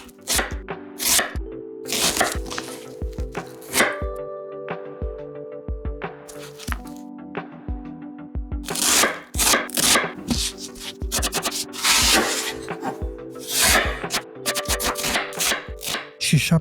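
A knife chops large pieces of onion on a board, about 250 grams' worth, for a lamb stew, with a steady run of sharp, close cuts and crunchy squishes that come in bursts with short pauses.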